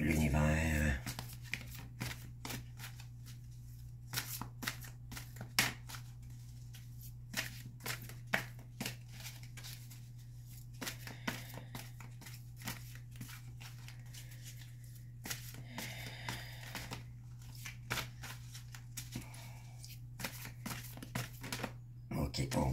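Oracle cards shuffled by hand in a rapid run of papery riffles and flicks lasting the whole stretch, close and crisp over a steady low electrical hum, with no talking.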